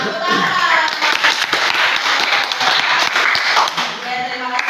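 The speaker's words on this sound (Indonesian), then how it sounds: "Kita kasih tepuk tangan." A classroom of ninth-grade students claps hands at the teacher's request, a lively, uneven burst of many hands with sharp individual claps, while a voice talks over part of it.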